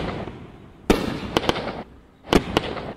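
Fireworks cake projectiles launch in the Fireworks Mania video game, sharp pops and crackling bursts arriving in two clusters with short rattling tails.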